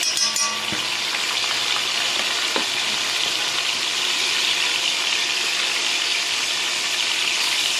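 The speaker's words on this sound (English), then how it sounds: "I can throw our garlic in there" Garlic fries in a pot of soup base with capers, a dense, steady, close sizzle throughout, with a few faint clinks of a utensil early on and no talking.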